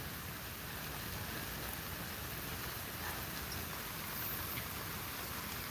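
Heavy rain pours steadily in Punjab, a dense continuous hiss of drops with no pauses and no voices.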